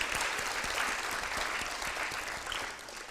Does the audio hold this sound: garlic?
no